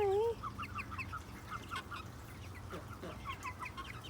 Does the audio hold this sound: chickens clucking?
yes